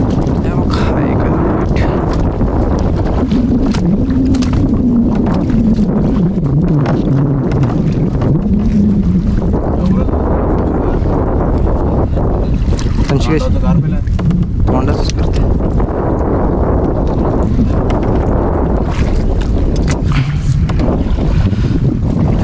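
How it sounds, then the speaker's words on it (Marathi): Strong wind roars and buffets the microphone aboard an old engine-fitted fishing boat rocking at sea during gill-net mullet fishing, a loud, steady rush with water noise throughout. "वारा पण वाढला आहे, त्याच्यामुळे आपला होडी डुलते जास्तच"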